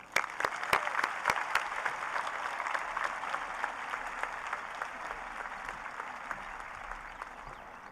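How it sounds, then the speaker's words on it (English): A high school graduation crowd claps steadily and continuously throughout, with a few sharper, nearby claps standing out above the dense, even wash of applause. "Please join me in giving a thunderous round of applause to welcome KJ Brent to the stage."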